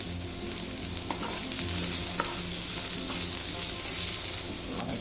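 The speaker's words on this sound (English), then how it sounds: "Just saute them for about a minute or two." Chopped vegetables for upma sauteing in a hot pan, a dense continuous sizzle with occasional clicks and scrapes of stirring, close and fairly loud.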